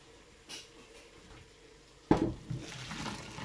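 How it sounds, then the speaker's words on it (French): A pot of white beans being emptied at a kitchen sink and refilled with fresh water: a light knock, then a sudden splash of pouring water that runs on as a steady close stream. "je vais vider, je vais changer l'eau."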